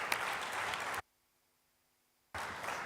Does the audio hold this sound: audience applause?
yes